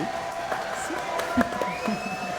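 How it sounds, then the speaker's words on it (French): A television studio audience on a French talk show applauds and cheers, a brief dense burst with some whoops over a continuous crowd wash, with voices mixed in. "Applaudissements pour Patsy P."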